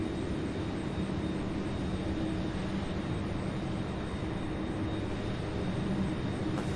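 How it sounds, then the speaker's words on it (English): A UPS MD-11 cargo jet at Louisville airport preparing for takeoff, a steady, fairly distant engine rumble held evenly throughout without speech. "This MD-11 getting ready to take off is going to Windsor locks."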